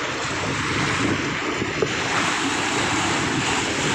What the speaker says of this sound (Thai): คลื่นแรงมากนะครับ